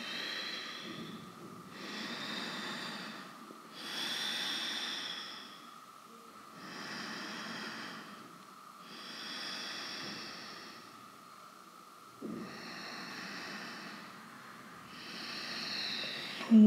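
Slow, deep yoga breathing during a runner's hamstring and lower-back stretch, seven long even breath cycles with soft airy rushes and a faint steady tone beneath, close and quiet.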